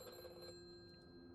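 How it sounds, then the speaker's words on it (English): A telephone rings faintly and steadily in the background, its bell-like tone sitting low under a quiet room. "That's a phone."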